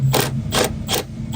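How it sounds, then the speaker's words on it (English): Thread tap being run into weld-spattered cab mount threads on a Ford F-350 6.4, giving three separate rasping, clicking turns at close range with short pauses between, no talk. "Let's run a tap through it just to clean it up"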